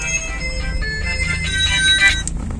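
A mobile phone rings with an incoming call, its tonal ringtone melody playing steadily throughout at moderate loudness over low background rumble.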